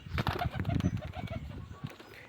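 Domestic pigeons coo close by, giving a run of soft, rhythmic low calls with some shuffling and faint noise around them.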